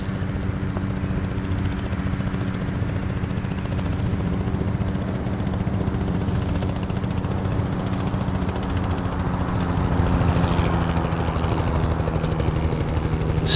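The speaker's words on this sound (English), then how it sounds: "There is a helicopter flying directly through it." Helicopter in American Truck Simulator flying over the Gateway Arch scenery in St. Louis, Missouri: a steady, moderately loud rotor drone with a low rhythmic thump that swells slightly toward the end, heard alone without talk.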